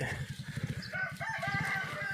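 A rooster crows nearby amid steady low clucking and rhythmic background chatter of chickens.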